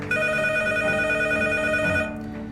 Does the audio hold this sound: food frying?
no